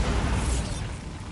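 A Bombarda blasting spell detonates in Hogwarts Legacy, a loud, dense, rumbling explosion that fills the whole short moment and fades only slightly toward the end.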